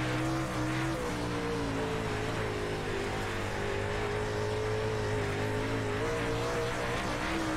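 Dirt late model race car in iRacing at Volusia Speedway Park, a steady loud engine drone with shifting harmonic tones as the car slides sideways off a corner, no talking.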